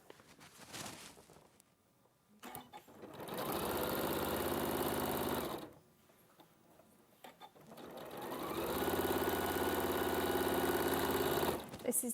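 A sewing machine runs in two sustained bursts of stitching separated by a quiet pause, close and steady with a whirring motor drone, and faint voices in the gaps.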